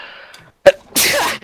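One loud, close human sneeze during a Minecraft gaming session: a faint breathy intake, a sharp catch, then a forceful hissing burst of air.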